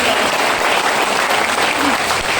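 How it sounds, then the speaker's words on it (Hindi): An audience claps continuously and loudly throughout, a dense, even wash of applause at a speech event. "ताली मर्दों वाली बजा लीजिए साथियों में"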